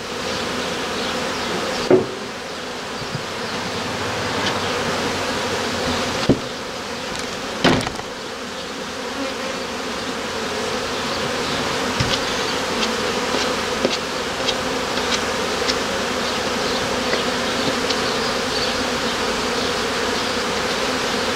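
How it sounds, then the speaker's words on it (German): Honeybees at a hive in a beekeeping setting, a dense, steady buzzing swarm close by, with a few sharp knocks of handling near the start before the hum continues unbroken. "die Bienen haben sich jetzt ein bisschen beruhigt"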